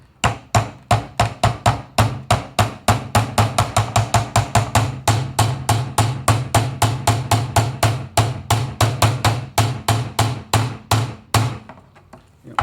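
Steady, rapid hammer blows on a nail, dozens of sharp metallic strikes in an even rhythm, close and loud, ending abruptly.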